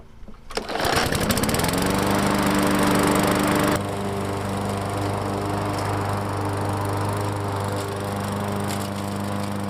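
A lawn mower engine catches after being pulled and roars at high revs for a few seconds, then settles into a steady, loud, close idle drone with no talking.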